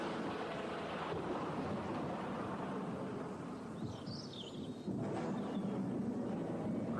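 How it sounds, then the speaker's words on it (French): Rumbling thunderstorm in a forest, with broadband rain and wind noise filling the whole stretch, a deep low roll building and swelling again near the end, steady and enveloping with no voices. "Là, il y a un sacré orage"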